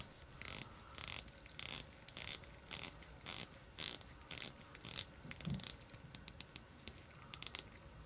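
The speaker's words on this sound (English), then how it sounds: "as far as the bezel action, it's 120 clicks" Rotating a 120-click unidirectional bezel on a Spinnaker Fleuss dive watch with an acrylic bezel insert, turned by a gloved hand, producing bursts of close, crisp ratcheting clicks in short repeated turns with brief pauses between.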